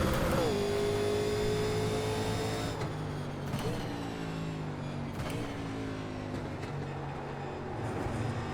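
A 1987 NASCAR stock car in an iRacing race at Watkins Glen drones steadily close up, its engine pitch dropping and climbing unevenly as it struggles to find a gear.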